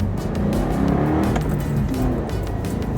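A Subaru with a supercharged FB25 engine accelerates at full throttle in naturally aspirated mode through a new throttle body, giving a steady, loud, close engine roar with rising pitch throughout and no talking.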